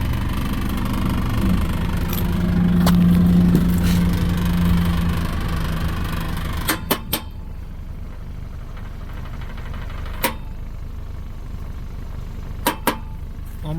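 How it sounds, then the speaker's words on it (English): A 2019 Ford Edge SEL engine idles steadily up close while a few sharp metallic exhaust rattles and clicks break through at irregular moments, as if something is loose in the muffler. "So I'm hearing an exhaust rattle back here."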